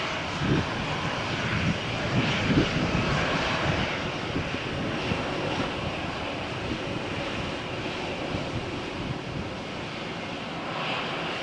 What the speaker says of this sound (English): Perfect landing, perfect touchdown, no crosswinds.